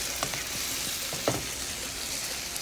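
Curry shrimp being stirred in a hot pan, with a steady background sizzle and a few soft scraping strokes of the spoon, close and moderately loud, no voices.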